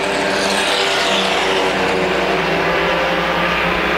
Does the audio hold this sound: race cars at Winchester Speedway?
yes